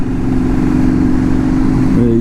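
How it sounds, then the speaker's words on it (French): A scooter engine drones at mid pitch and rises slightly as it passes along a street, heard under steady conversation. "C'est un scooter."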